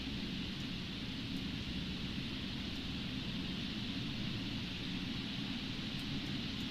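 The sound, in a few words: rain in The Sims 4 video game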